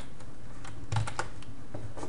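Someone types a string on a computer keyboard while debugging a C# program, producing quiet, irregular key clicks with a couple of slightly louder taps, heard alone.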